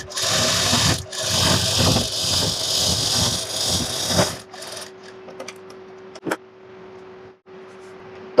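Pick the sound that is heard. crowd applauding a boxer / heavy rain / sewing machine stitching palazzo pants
sewing machine stitching palazzo pants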